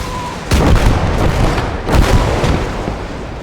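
In the Gates of Hell Ostfront war game, a Calliope rocket artillery launcher fires two heavy booming salvos about a second and a half apart, each with rumbling, crackling tails.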